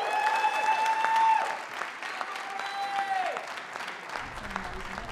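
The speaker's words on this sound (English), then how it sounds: "A round of applause for Maurie Sherman." Audience applause at a radio hall of fame induction ceremony, loud crowd clapping that swells early and then continues more steadily, with whoops and a sustained tone over it.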